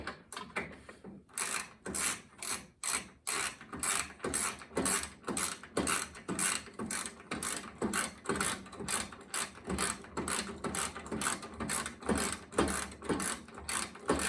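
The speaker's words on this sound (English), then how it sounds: "So I'm holding the nut in place so that I can remove the bolt" A tool ratchets repeatedly while a bolt is removed from a treadmill walk belt roller, producing a steady series of quick, close mechanical clicks with no talk.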